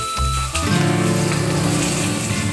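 Oil spattering and sizzling in a pan in a home kitchen, a brief pause before a loud, dense crackle bursts in and holds close.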